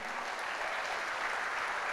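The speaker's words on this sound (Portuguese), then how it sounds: "Pode aplaudir" Church congregation claps in a continuous, dense wash of applause, steady and moderately loud throughout the short moment.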